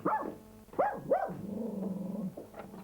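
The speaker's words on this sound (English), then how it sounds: "Stop barking!" A dog gives a few close, throaty barks that trail into a low, sustained growl.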